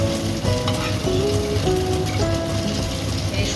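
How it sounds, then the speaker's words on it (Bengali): Momo dumplings pan frying in hot oil, a loud, close, continuous sizzle with crackling spatter, and faint tonal clinks layered over the steady frying hiss. "কিছু কিছু অল্প অল্প করে ভেজে আপনাদের দেখাচ্ছি।"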